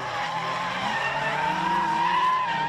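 Ford Falcon AU drift car skidding through a chase run at a state drifting series round, a loud continuous engine roar with tire squeal sweeping upward, steady and close throughout.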